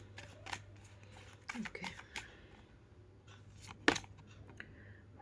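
Tarot cards are shuffled and handled up close in short, crisp riffling and snapping bursts over a faint steady hum, with a brief spoken word between them.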